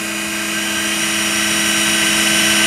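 Wheel of a Bridgeport/Harig No. 618 E-Z Surf 6 x 18 inch three-axis CNC surface grinder set near 1,000 RPM, giving a loud, steady motor hum with a faint whine that swells slightly as it runs, with no voices.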